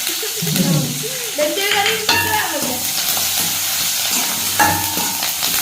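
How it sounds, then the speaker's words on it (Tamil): Onions fry in a pan for a prawn curry in a Jaffna home kitchen, giving a steady, close sizzle with occasional stirring scrapes while voices talk over it. "வெங்காயம் போட்டுட்டீங்க"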